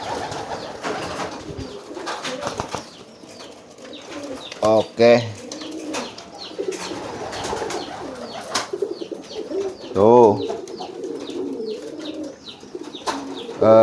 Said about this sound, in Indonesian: Nah ini merpati kolong nih, tuh lagi giring juga.